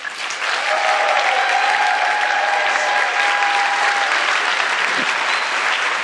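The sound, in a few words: audience applause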